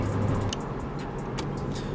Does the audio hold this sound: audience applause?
no